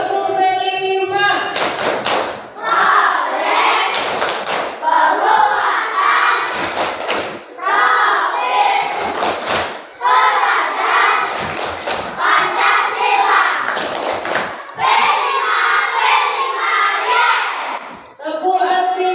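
Schoolchildren in an Indonesian classroom perform a rhythmic clapping chant, chanting together between bursts of sharp, patterned hand claps. The group claps close and loud, with short pauses between phrases.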